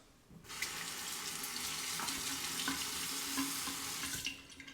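Safety razor rinsed under a running tap, a steady close splash of water that starts suddenly, flows for about four seconds and tapers off.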